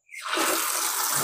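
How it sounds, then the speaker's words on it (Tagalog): Water pours into a watering can, starting abruptly and then running as a steady, close rush with no talk. "Ayan, punin na natin tubig."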